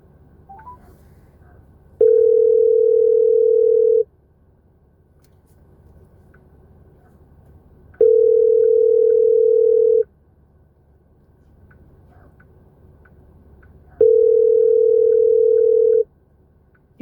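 Phone call ringing before voicemail: three steady electronic ring tones, each about two seconds long with four-second gaps, loud and clear over faint outdoor background.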